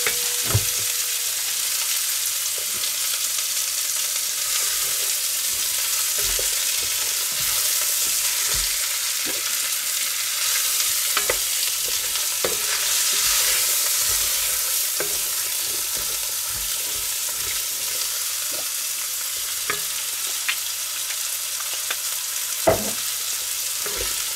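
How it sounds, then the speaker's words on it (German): Vegetables and meat with fillet and bratwurst searing in oil in a Dutch oven, a constant dense sizzle with irregular stirring clacks and scrapes of the utensil against the pot, close and even, no voices. "Dann schmoren wir das jetzt alles nochmal schön an. Ich tue noch ein klein bisschen Öl hinzu."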